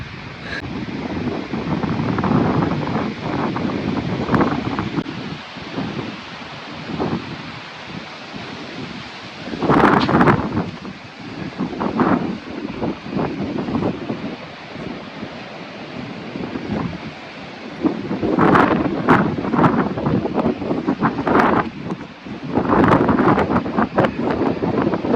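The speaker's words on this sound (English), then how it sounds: "The wind got really strong here, so I decided to do a voiceover." Strong gusty wind buffets the microphone on a lakeside beach at a state park, a loud continuous roar with surging gusts and faint surf beneath, and no voices.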